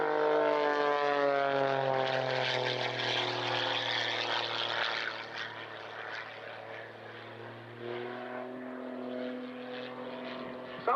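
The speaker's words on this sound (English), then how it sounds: "as he zooms back down there, working that engine overtime." A propeller-driven aerobatic airplane performing at the RAF Cosford airshow, its engine droning loudly and continuously with a shifting pitch as it climbs and dives overhead.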